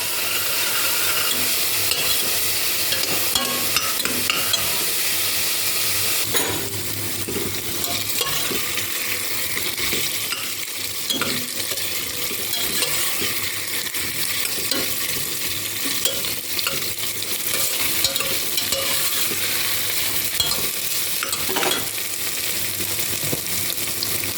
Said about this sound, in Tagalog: frying onion, garlic, and put little bit of olive oil.